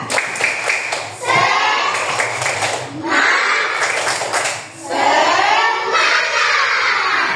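Schoolchildren in a classroom clap in rhythmic bursts while chanting together, loud group voices alternating with short pauses.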